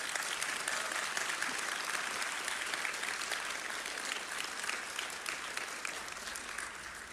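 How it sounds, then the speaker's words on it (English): Sustained audience applause for music instructors at an evening spring music recital, a steady dense clapping wash from a crowd that holds at an even level throughout and tapers slightly near the end. "let's give them a round of applause as well."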